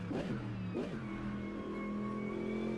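A race car engine in the iRacing sim, revving in two quick blips and then holding a steady, droning tone, loud and continuous with no talking.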